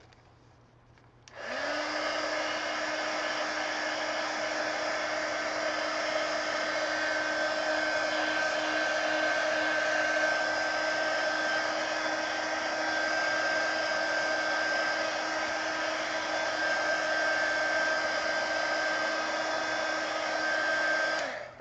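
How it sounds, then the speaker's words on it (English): A heat gun blows hot air over paint on a coloring page, starting after a short quiet moment and then running as a steady, loud, close whoosh with a high whine until it cuts off at the end. "Let me hit it with the heat gun and dry it."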